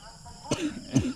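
Two short, harsh coughs about half a second apart, close by, with a throaty rasp after each.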